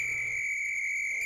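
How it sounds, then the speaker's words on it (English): A shrill gym-teacher-style whistle holds one steady, piercing tone with a strong overtone, blown close and loud for the whole stretch without breaking, with faint background noise beneath it. "You got like a a gym teacher whistle is what I've got"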